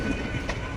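A train on the Sealdah to Lalgola line rolls into the station in the evening, giving a steady, close rumble of wheels and carriages with faint rail clatter.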